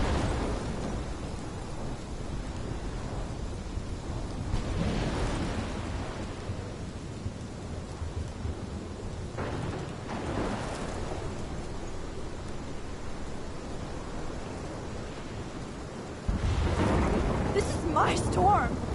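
A thunderstorm with rain in the Life is Strange game rumbles on as a constant dense roar of downpour, with deep rolling thunder swells around the middle and a louder surge near the end.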